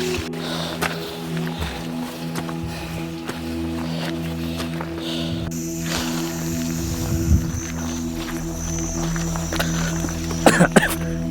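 Coughing breaks out amid steady low background noise, with a burst of several harsh coughs near the end; no one speaks.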